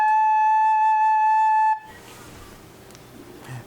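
A recorder blown gently sustains one clear, steady note with a pure tone and strong overtones for almost two seconds, then cuts off. Faint room noise and light rustling follow.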